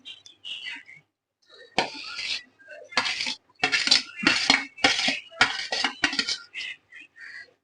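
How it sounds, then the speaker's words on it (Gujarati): Shallow-fried paneer, capsicum and onion are stirred into gravy for paneer tikka masala, with a series of close, loud metallic scrapes and clinks of a spoon against the pan in uneven bursts and no talk. "આપણે પનીર, કેપ્સિકમ અને ડુંગળીને સેલો ફ્રાય કર્યું હતું એ આપણે આ ગ્રેવીમાં એડ કરી દેવાનું છે."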